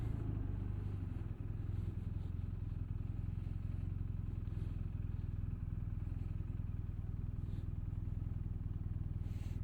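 Steady low engine drone of dirt bikes riding past, running continuously, a rumbling motor noise without any voices.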